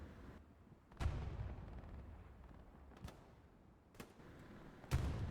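Distant gunfire and explosive blasts in the Hell Let Loose World War II shooter at night on the Foy map, with four sharp reports spaced about a second apart over a low, rumbling battlefield background.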